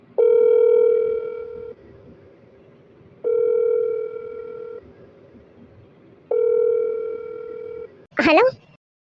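Outgoing phone call ringback: three long, evenly spaced electronic rings with gaps between them, loud and clear, ending with a short voice.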